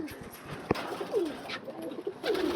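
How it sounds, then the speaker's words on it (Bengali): Flying pigeons in a loft coo with soft, low, repeated calls, several close together, and a sharp click partway through, with no talking. "এগুলো হচ্ছে ফ্লাইং ফ্লাইং পিগন"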